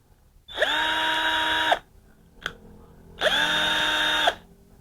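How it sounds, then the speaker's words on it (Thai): A Total 12V cordless drill-driver runs in two separate bursts of about a second each, a steady high whine with a soft spin-up and spin-down, close and fairly loud, with a brief click between the runs. "เวลาเรา หมุนสว่านไปนะนี่เป็นสว่าน"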